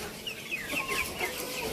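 Shamo and Indio Gigante chickens, young birds around three to four months old, give soft, short clucks over a steady low background, fairly faint and close.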